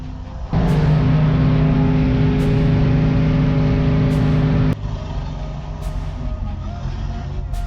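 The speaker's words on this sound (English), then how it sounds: "this is my first skid since all those changes were made over the winter" A modified truck skids at SummerNats, its engine roaring loud and steady as it holds a sustained high-rev drone, then drops to a lower, rougher rumble, with faint crowd noise in the background.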